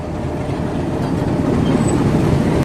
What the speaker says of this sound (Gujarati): રેલવે સ્ટેશન ઉપર છે ને ટ્રેન આવી ગઈ છે